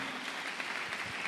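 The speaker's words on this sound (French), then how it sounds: "let us clap for the Lord Jesus" A church congregation claps for Jesus during a French-English sermon, a faint, steady wash of many hands clapping heard at a distance.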